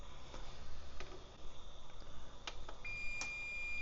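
A home oven's control panel gives a few short electronic beeps as its heat is lowered to 350 for baking sourdough bread, sparse chirps over a faint background hiss with no talking.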